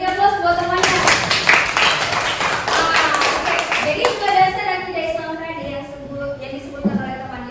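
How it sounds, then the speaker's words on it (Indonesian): Classroom applause for a fellow student during an Islamic creed lesson: a loud burst of clapping from many hands for about four seconds, then tapering into scattered claps amid murmuring children's voices. "beri aplaus buat temannya"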